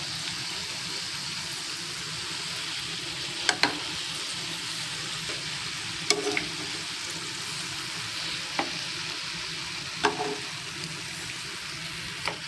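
Espada fish fries in oil in a pan, giving a soft, continuous sizzle and bubbling with a few sharp pops and crackles scattered throughout, fairly close and steady.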